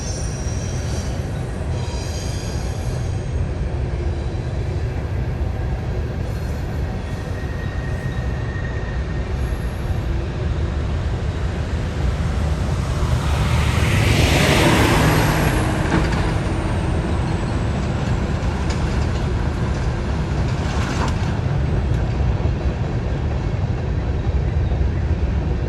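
A CSX freight train rolls past on the second track beside a railroad crossing, a long loud continuous rumble of wheels and cars with a swelling rush near the middle and high metallic wheel squeals.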